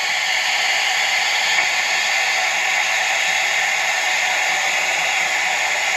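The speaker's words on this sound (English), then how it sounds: "I am going to do the quick release on this" Steam from an Instant Pot quick release, cooking corned beef and cabbage, vents in a steady, loud, unbroken hiss that holds at the same level throughout.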